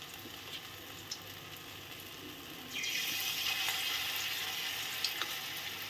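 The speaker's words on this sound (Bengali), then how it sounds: "এখন আমি তেলের মধ্যে দিয়ে দেব, আস্তে আস্তে দিয়ে দেব" Mashed roasted eggplant pakora batter is lowered into hot oil on a gas stove. After a quiet start, a bright, steady sizzle and crackle of frying bursts in and continues close by.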